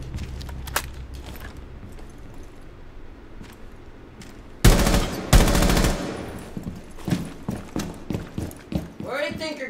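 Gunfire in Rainbow Six Siege during a tactical round, quiet stepping and scattered clicks before a loud close burst of rapid shots, followed by several separate cracks and a voice at the end.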